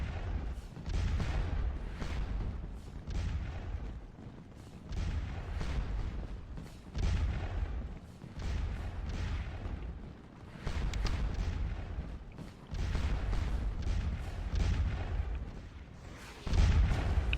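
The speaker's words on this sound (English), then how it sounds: "These two forward battalions are getting shot up pretty good by our artillery." Artillery fire in the Napoleonic battle game Scourge of War, a continuous rumbling barrage of booms and crackling gunfire with repeated heavier low thuds every second or two, dense and sustained throughout.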